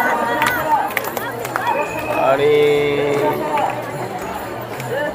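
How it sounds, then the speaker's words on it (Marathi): A large, dense crowd of pilgrims at Pandharpur on Ashadhi Ekadashi, continuous loud chatter and bustle with footsteps and scattered voices close by, and someone talking over it. "खूप गर्दी आहे आज पंढरपुरात."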